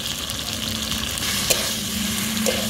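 Potatoes stir-fried with chillies, salt and turmeric sizzle loudly and continuously in a pan, with faint scraping from the stirring.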